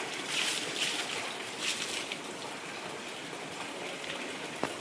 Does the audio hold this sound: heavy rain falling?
yes